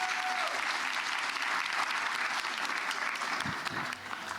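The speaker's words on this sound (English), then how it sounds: "let's just give them a round of applause before they introduce themselves" Applause from a women's leadership conference audience, a broad, continuous clatter of many hands that holds steady and then starts to thin near the end, with a faint voice briefly showing through.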